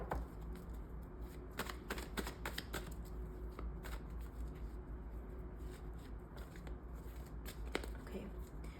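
Tarot cards reshuffled by hand, soft papery riffles and flicks close by, quiet against a low room hum, with a faint voice in the background.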